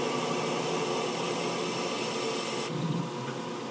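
A small CNC lathe runs a cutoff tool at 750 RPM to cut groove material behind a wall, giving a steady broadband hiss and machine whir that softens slightly near the end, with no talk.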